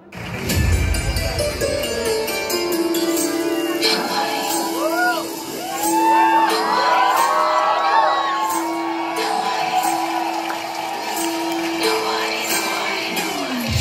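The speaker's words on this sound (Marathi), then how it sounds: "टाळ्या होऊन जाऊ देत कंटिन्यू" A performance audience cheers, whoops and shouts continuously at full volume, with a sustained crowd roar and higher shrieks throughout, loud and close.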